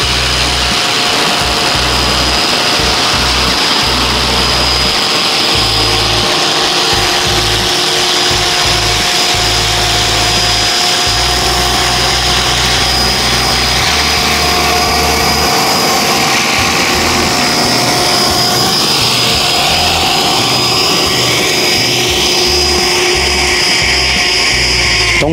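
A Devil X360 GPS drone descends to land, its motors giving a loud, continuous buzzing whine close by that wavers in pitch throughout.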